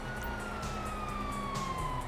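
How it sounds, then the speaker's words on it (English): A police siren in Grand Theft Auto wails steadily through the whole stretch, its tone slowly sliding, loud and continuous with no talking over it. "you hear that? Sirens!"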